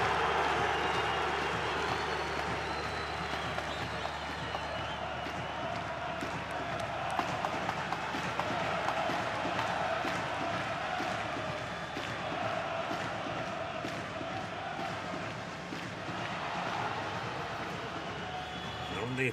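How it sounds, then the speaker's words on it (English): A large stadium crowd at an AFC Champions League Two football match between Al Zawraa and Al Nassr roars in a sustained, dense wash of cheering, with a commentator talking over it. "It's a massive cheer."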